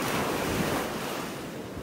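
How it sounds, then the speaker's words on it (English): Ocean surf washing onto a beach in North Naples, Florida, a steady broadband roar of breaking waves with some wind buffeting the microphone, fairly close and continuous. "Listen to those waves"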